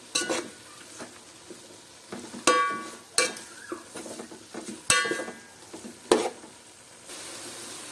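Mutton keema sizzles and fries in a pan, with intermittent scraping and clattering strokes of a spoon stirring the mince, close and fairly quiet, no talking.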